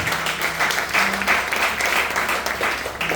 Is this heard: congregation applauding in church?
yes